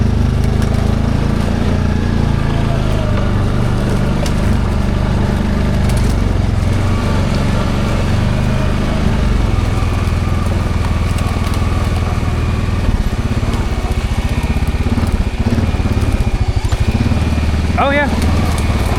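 An ATV engine drones loudly and steadily while riding along trails on a private property, close and continuous with slight shifts in revs throughout; voices talk over it.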